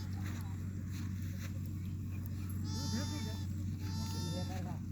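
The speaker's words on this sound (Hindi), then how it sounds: "ये देखो भेड़ के बच्चे।" Lambs bleat at a herders' camp with Marwari sheepdogs during the new lambing season: a few short, wavering bleats near the middle and end over a steady low hum and background voices.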